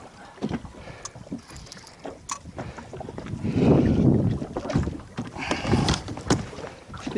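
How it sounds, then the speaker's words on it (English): Fishing boat with a trolling motor on the water, a soft low hum that swells in the middle, under wind buffeting and splashy knocks against the hull. "We might be turning the trolling motor off here in just a minute."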